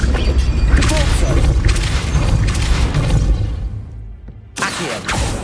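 Depulso spell blasts in Hogwarts Legacy fire off as repeated loud whooshing thumps and crashes against a noisy game soundscape, ending in a short hush before a final burst.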